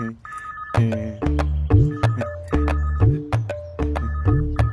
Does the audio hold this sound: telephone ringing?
yes